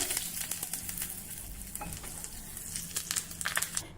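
Curry leaves and chilli crackle in hot tempering oil with hing and turmeric, a close, continuous sizzle broken by sharp pops and spits, with no talking.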